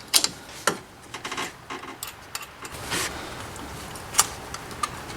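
A 13mm wrench works a bolt loose on a Dodge Ram water pump, giving close, scattered metallic ticks, clicks and rubbing scrapes at an uneven pace, with several sharper clinks, and no talking.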